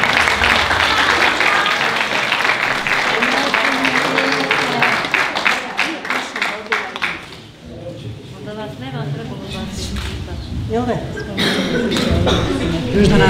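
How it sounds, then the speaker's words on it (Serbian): Audience at a Christmas concert by a cultural society breaks into loud, sustained applause that fades after several seconds, followed by someone speaking close by and some crowd chuckles. "zato vas molim jedan veliki aplauz i podrške"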